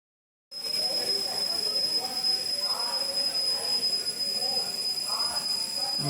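Train pulling into Hubballi railway junction, a steady rumble of wagons with faint squealing wheels close by, heard from on board, with murmured voices in the background.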